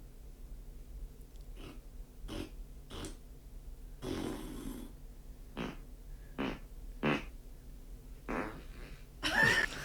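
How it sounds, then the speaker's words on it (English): A string of farts, each a short burst, some wetter and some drier, spaced out with pauses and a louder final one, close and clear with no talking over them. "Guess my fart."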